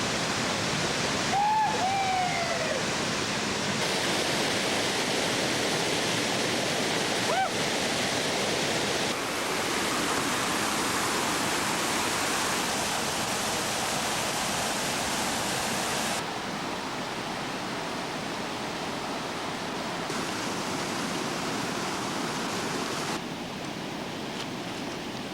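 Agua Azul waterfall in Chiapas, Mexico roars steadily and loudly throughout, a dense unbroken rush of falling water with a brief faint whistle-like tone early on.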